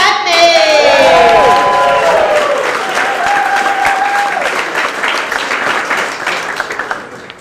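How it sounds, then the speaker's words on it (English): A comedy club crowd at Gotham Comedy Club bursts into loud, sustained applause and cheering, with whoops and shouts rising over dense clapping before gradually thinning out. "Ladies and gentlemen, start clapping up for Scott Cagney!"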